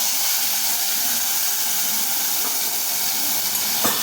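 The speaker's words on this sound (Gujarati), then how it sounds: "આ ટોમેટો પ્યુરીને ફાસ્ટ ગેસ ઉપર બરાબર સાંતળવા દેવાની છે" Tomato puree sautéing in spiced oil over a high gas flame, a steady broad hiss of frying that runs throughout, loud and close, with a brief sharper crackle near the end.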